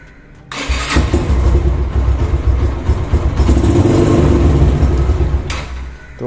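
A motorcycle engine with a new maintenance-free gel battery cranks on the electric starter and catches almost immediately, then runs loudly and steadily for several seconds before cutting off.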